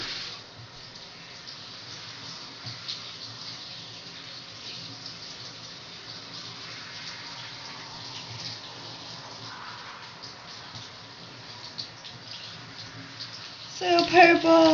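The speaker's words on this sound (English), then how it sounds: "So taking out the bag right now and going to rinse it out in the tub." Cold water gushes steadily from a bathtub tap while purple hair dye is rinsed out in the tub, a constant broad splashing rush that runs throughout, with a voice briefly audible near the end.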